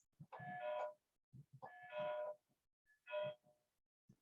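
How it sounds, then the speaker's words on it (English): A small hand bell used for door prizes at a United Way trivia event rings three times, each a bright, loud ringing burst with a lingering metallic tone, separated by short gaps of quiet handling. "So I use this bell for my door prizes,"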